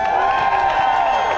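A rally crowd cheers and applauds, a dense steady wash of voices and clapping that stays loud and close for the whole stretch, with whoops rising above it.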